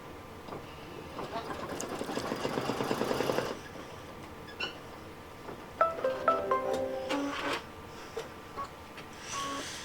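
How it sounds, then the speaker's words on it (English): An embroidery machine sews a line of stitching over a shopping-cart design on an in-the-hoop keyfob: a rapid, rhythmic mechanical chatter for a few seconds, then a pause and a brief burst of quieter clicks and beeps. "step number 4, is simply a line that stitches right on top of that shopping cart"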